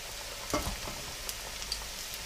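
Onion bhajis frying in hot oil in a home kitchen, a steady close sizzle and crackle with a few sharper pops as batter drops in, no voices.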